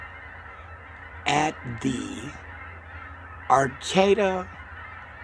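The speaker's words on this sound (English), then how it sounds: "This is the Falcon Geese coming in for a landing" Geese honk in two loud, clustered bursts as they come in to land at a wildlife reserve in Arcata on Humboldt Bay, with a person talking nearby.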